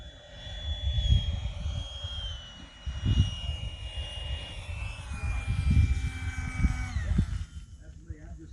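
A Freewing F-22 Raptor RC jet with a 90mm electric ducted fan and 6S power whines overhead as it comes in to land, its pitch gliding downward and fading, while someone talks over it.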